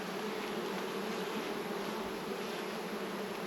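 Honey bees hum in a dense, steady drone from a small nuc hive, close and continuous with no gaps and no voices.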